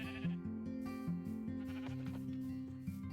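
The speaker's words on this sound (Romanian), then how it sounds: "Mai e o oaie aici." A sheep in the video game Minecraft bleats a few times against a steady bed of in-game music, the calls quiet and close.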